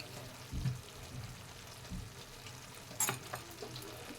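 Radish greens mixed with roasted besan are stirred in a frying pan: a soft sizzle with a few scraping knocks of the spoon against the pan, the brightest near the end.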